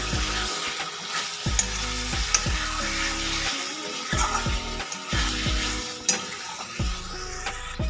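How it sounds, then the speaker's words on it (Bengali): Soaked potatoes fry with spices in a pan, producing a steady loud sizzle broken by repeated stirring scrapes and light clanks of a spoon against the pan. "এবার আলুটাকে মশলার সাথে একটু ভালো করে কষিয়ে নেব"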